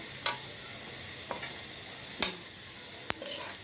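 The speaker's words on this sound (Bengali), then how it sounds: "এই যে এখন আমি পাঁচফোড়নটা দিয়ে দেব" Panch phoron spices sizzle in hot oil for a mango khatta, making a steady crackling hiss broken by a few sharp ticks of stirring, close and moderately loud.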